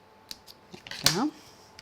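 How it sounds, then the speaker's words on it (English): Craft scissors snip through card underneath a stamped design, one quick, crisp cut that rises out of quiet handling clicks and soft taps. "I'm just going to nip underneath there with my scissors"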